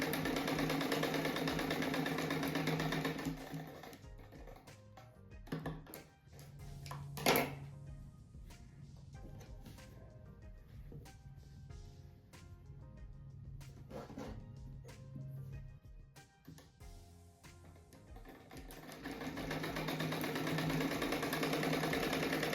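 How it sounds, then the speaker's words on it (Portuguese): A sewing machine stitches fabric squares together for a rug, its motor running in a steady mid-pitched whir in short bursts with pauses between. "daqui eu ponho a largura de um pé de máquina, costura."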